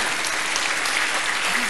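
An audience at a yoga session led by Swami Ramdev claps in a dense, sustained burst of applause that holds steady at full loudness for the whole stretch, with no pause.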